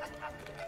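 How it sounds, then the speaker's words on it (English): Short, faint yipping bark from a dog in the puzzle video game Creaks, a quick couple of high whimpery yelps, soft and brief, with no talk over it. "there are two dogs down there"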